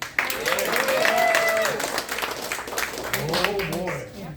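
An audience at a live concert claps in a loose burst of applause that swells and fades, with someone speaking over the clapping.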